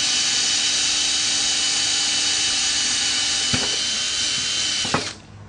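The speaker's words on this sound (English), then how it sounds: "we need to make a pilot hole, and what we use is a 3/16 inch bit, and we drill through" A power drill with a 3/16 inch bit whirs steadily at full speed for several seconds, drilling a pilot hole through wood, with a couple of brief knocks, then winds down as the trigger is released.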